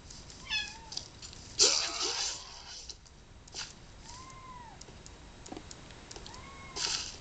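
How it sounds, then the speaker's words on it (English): A kitten meows several times, each cry a clear, rising and falling call, heard close by in a quiet room while a gameplay session runs, with faint keyboard typing and clicks between the meows. "If you hear a cat, that's my kitten. It's literally looking at me, meowing, for no reason."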